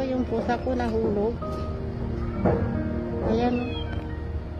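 A cat meows several times in plaintive, drawn-out calls after falling, with a voice talking over and between the cries in an indoor setting.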